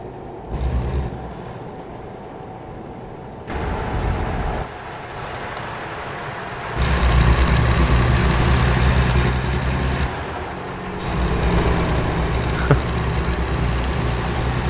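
A manual heavy truck's engine in American Truck Simulator drones steadily as a low, even rumble, stepping up and down in loudness as the driving changes, with no voices over it.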